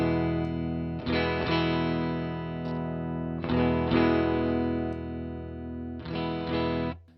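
Electric guitar through a 1980s Peavey amp with its thick boost engaged, chords struck in several bursts that ring out and sustain between strums, no voices.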